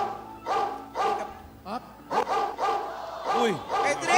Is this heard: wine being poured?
no